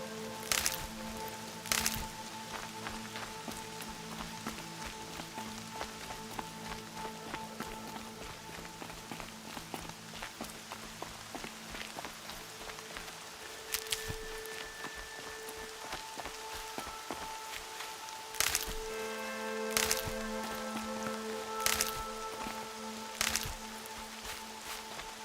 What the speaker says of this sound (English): Everything's sharp and looming in the rain.